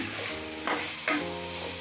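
Lemon pickle bubbles and sizzles in a pan with a constant close frying hiss, broken by two short louder spits, and no one speaks.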